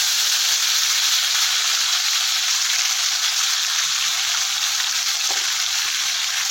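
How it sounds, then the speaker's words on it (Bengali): Spice paste sizzles in hot oil for a Bengali ghugni curry, a loud, steady frying hiss that runs unbroken from start to finish with no talking. "এবারে আমি ওই যে বাটা মশলা যেটা রেডি করে রেখেছিলাম ওটাকে আমি তেলের মধ্যে"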